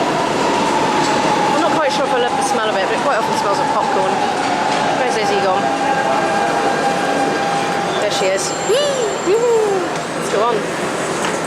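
A Lisbon metro train runs through an underground station at Parque das Nações, its steady loud rumble carrying a long wheel squeal and scattered higher screeches near the end. Voices talk over the noise.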